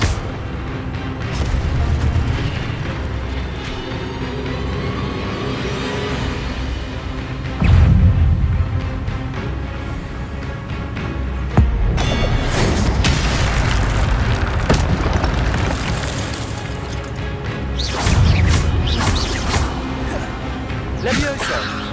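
Fire spell effects in the Hogwarts Legacy video game, heard as loud booming bursts that recur every few seconds over a dense, continuous game soundscape with no talking.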